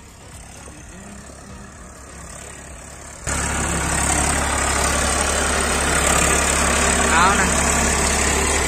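A tractor engine idles on a farm in Balod, Chhattisgarh, with a steady low rumble that grows louder and closer partway through, while a person speaks briefly over it.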